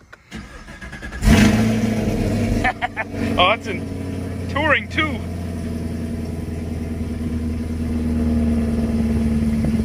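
A Camaro SS 1LE V8 fitted with Texas Speed 2-inch headers and a stock muffler starts with a loud crank and catch. It blips through a few sharp revs, then settles into a deep, rumbling idle while people talk nearby.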